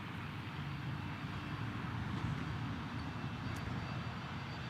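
An Embraer Phenom jet passes at Dallas Love Field, its steady broadband engine roar holding at a fairly constant level throughout, with no talk over it.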